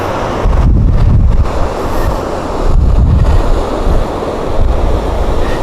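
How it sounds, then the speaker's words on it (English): Rushing river water and a small waterfall in Glacier National Park, Montana, a loud, steady broadband roar with gusty surges and wind buffeting on the microphone throughout. "And there's a bit of a waterfall over there"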